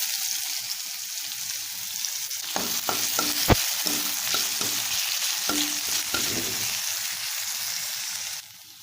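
Potatoes fry in a pan for rice poha with a steady soft sizzle, while a spoon stirs and scrapes in a run of sharp knocks partway through, then the sizzle cuts off.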